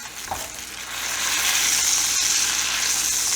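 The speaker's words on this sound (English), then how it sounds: "I got a hot pan waiting. All right, let's start the slow sear here." A tomahawk ribeye steak sears in a hot pan with a steady, close sizzle that swells slightly after a brief thump near the start, with no voices.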